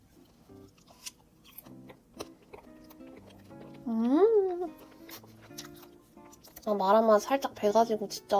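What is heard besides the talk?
chewing crispy grilled makchang (beef intestine) pasta topping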